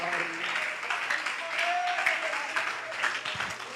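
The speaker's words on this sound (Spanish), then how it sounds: "¿Alguien puede aplaudir?" A church congregation applauds during a sermon, a moderate, uneven patter of clapping with some voices and murmurs mixed in, heard from within the room.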